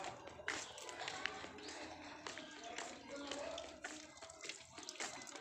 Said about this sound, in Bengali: ওর জন্য জল তুলে রাখছি